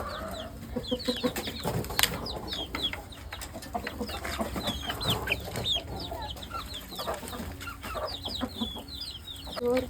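Native country chickens cluck repeatedly in a busy flock, with several birds calling close and overlapping in a steady, continuous chatter.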